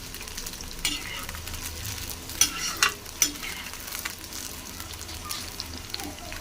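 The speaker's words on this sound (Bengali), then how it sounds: "এবার তেলটা গরম হয়ে গেছে, চিলি সোয়াবিন ভেজে নেব" Chili soybean chunks fry and are stirred in hot oil, a continuous sizzle with several sharp scraping knocks of the spatula against the pan.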